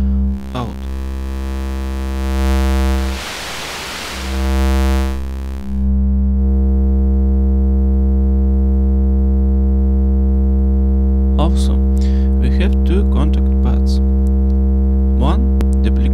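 Output of a kNoB technology Eta Carinae VCO's voltage controlled mixer: a loud, steady synthesizer drone with a burst of noise in the middle, then a sustained tone joined by quick chirping sweeps near the end.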